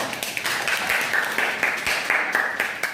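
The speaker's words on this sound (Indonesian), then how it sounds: "Tepuk tangan dulu semuanya" Classroom applause after a group presentation in a microteaching lesson, a dense run of many hands clapping at steady loudness throughout, with a faint voice mixed in.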